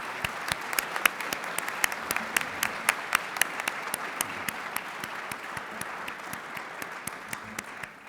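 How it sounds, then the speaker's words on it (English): An audience applauds at an Army cadet panel event, steady clapping from many hands with sharp individual claps standing out, continuous throughout and fading at the very end. "Let's give them a big round of applause,"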